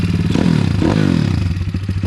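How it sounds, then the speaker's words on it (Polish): Newly fitted Moretti 170 engine idling close by with an uneven, chugging pulse and clattering beats, revving up briefly twice. "Nowy silnik 170 Moretti"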